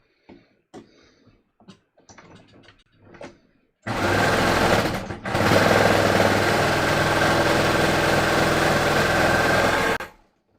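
A sewing machine stitching a top runs loud and close for about six seconds with a brief pause, after a few soft handling clicks and taps.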